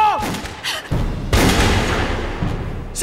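Gunfire rings out in a Chinese war film, several sharp, booming reports with echoing tails in quick succession, mixed with dramatic soundtrack and some voices.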